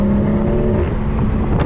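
A BMW 340i engine pulls hard under throttle in third gear, a loud, steady, rising drone that runs the whole stretch with no talking.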